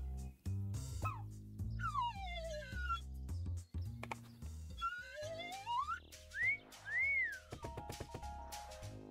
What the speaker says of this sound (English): He just whistled at you.